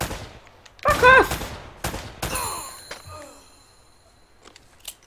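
Gunfire in the Uncharted video game: several sharp shots and bursts ring out in quick succession amid game effects, fairly loud, tapering to scattered quieter hits.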